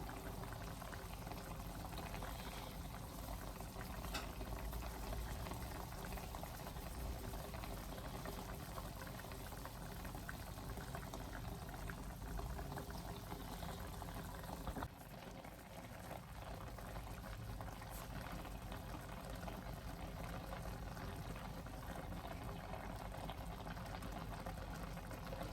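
Oxtail stew bubbling steadily in a pot as it simmers, a continuous close boiling and popping texture running throughout with no talk over it.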